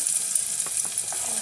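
Garlic, onion and ginger sizzle in a frying pan as a Filipino sautéed sponge gourd dish begins, a steady bright frying hiss with a few soft stirring scrapes over about a second and a half.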